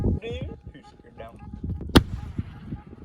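Consumer fireworks go off outdoors, a single sharp loud bang standing out from a quieter spell of smaller pops and crackles, with people talking faintly around it.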